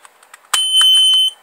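A household smoke detector switched back on gives a sharp click followed by a loud, steady high-pitched electronic beep lasting under a second, close by and alone.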